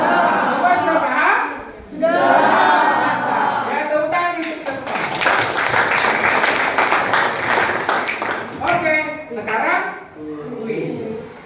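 A class applauds together, with a burst of clapping and some chatter in a classroom, mixed with voices over a loudspeaker that run before and after the clapping.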